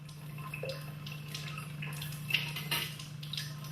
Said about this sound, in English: Then he rinses the microsection thoroughly with water